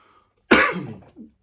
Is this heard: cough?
yes